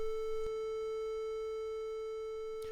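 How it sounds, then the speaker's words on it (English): A steady A440 pitch reference tone sounds on its own, a pure sustained note held evenly and quietly without a break, with only a couple of faint clicks around it. "there's an A note for you"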